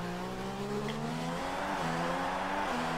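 Car tires squeal through a corner at Abu Dhabi in F1 2016, a continuous rising and falling screech over a steady engine drone, close and with no talk.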